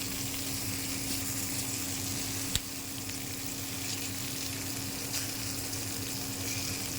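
Coral fish frying in a pan, a steady close sizzle running evenly throughout with one brief sharp knock near the middle.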